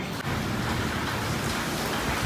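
Steady rain falls outdoors, a dense continuous hiss of drops on surfaces with a faint low rumble beneath, even and unbroken throughout, no voices.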